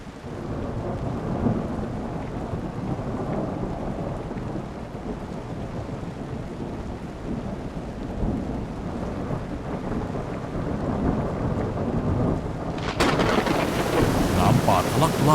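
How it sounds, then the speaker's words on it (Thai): A heavy nighttime thunderstorm pours dense rain while low thunder rumbles and wind gusts through, loud and continuous throughout, growing harsher and brighter in the final seconds. "จนกระทั่งคืนหนึ่งพายุฝนถล่มลงมาหนักหน่วงที่สุดในรอบหลายปี"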